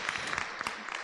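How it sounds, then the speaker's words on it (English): Brief, fairly faint applause from an audience at a nursing ceremony honoring a faculty member, a dense patter of claps lasting about a second. "And so give her a hand of applause."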